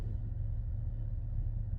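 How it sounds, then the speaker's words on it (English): V6 Dodge Charger driving on the road, a steady low rumble of engine and road noise heard from inside the cabin, with no voices. "Let's take this Dodge Charger on the road"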